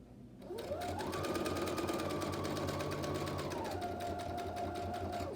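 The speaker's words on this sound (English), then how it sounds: "Then we're going to sew down this one." A sewing machine stitches a seam on a fabric bag, starting after a brief pause and then running as a steady, close mechanical whir with a fast rhythmic needle chatter, its pitch stepping down near the end.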